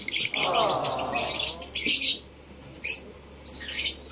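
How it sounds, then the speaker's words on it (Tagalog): African lovebirds in a nestbox give bursts of sharp, bright chirps and tweets, with one longer warbling call near the start and short squawky calls in between, up close. "Wala pang mga itlog yung mga alaga nating African lovebirds."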